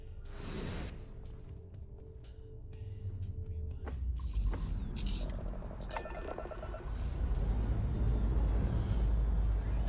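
Spaceship lifting off into the sky in Starfield, a swelling engine roar with whooshing and mechanical clanks that builds louder toward the end, no voices.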